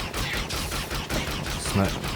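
Rapid bursts of video game gunfire in the horror game Stuffed crackle continuously and loudly, one shot after another, with a heavier blast near the end.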